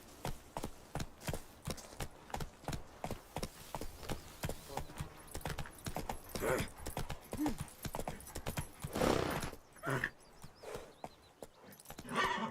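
Horse hooves clip-clop in The Witcher 3, a steady rhythmic trot of close, moderately loud hoofbeats that quickens and thickens toward the end, with a brief whinny-like sound.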